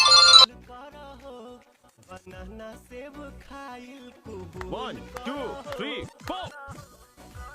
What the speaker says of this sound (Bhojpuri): सर फोन है